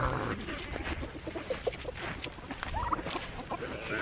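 On a homestead barnyard a small rooster gives a few soft, brief clucks amid low background noise and shuffling, fairly faint and close.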